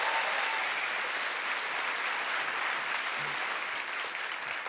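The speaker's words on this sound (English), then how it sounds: "Round of applause for Mark, everyone." A comedy club audience applauds a man called Mark, a dense, even roar of clapping that carries steadily throughout without letup.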